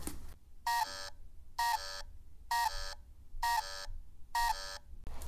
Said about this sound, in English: So if you pick it up, an alarm will go off,